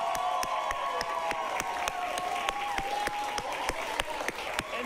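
Theater crowd at an improv comedy show claps and cheers to vote for a teen drama finale, dense applause with sharp rhythmic claps punctuating it and a sustained whoop or shout riding over the top throughout.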